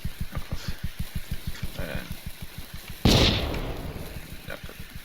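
Fireworks going off in the Vintage Story primitive survival mod: a steady run of quick popping bursts, then one louder bang that crackles and fades, with more pops after it.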